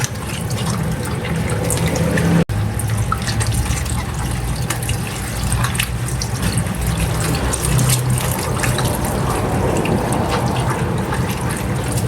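Tap water gushes steadily, loud and close, as cabbage for kimchi is rinsed in a basin. The flow is broken only by a brief clunk partway through, and no one speaks.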